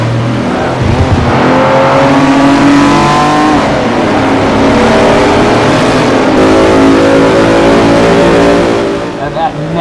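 A 1960s race in Forza at Le Mans, with a Ferrari V12 and other period race cars roaring loudly and continuously as engines rev and pass, while a commentator talks over the racing.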